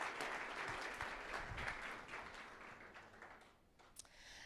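An audience at a university humanities awards ceremony applauds a graduating student, with a quiet, even wash of many hands clapping that thins out toward the end.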